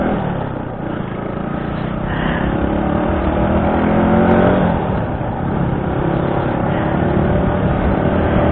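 A motorcycle engine revs continuously as the rider rev matches on the road, a loud close droning with rising and falling engine pitch and wind noise.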